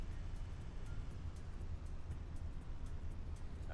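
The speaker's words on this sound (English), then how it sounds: "You hear the slight little like wind buffeting in-cab sound?" Low, steady wind buffeting rumbles inside a truck cab in Farming Simulator 25, a constant muffled drone with no talk over it.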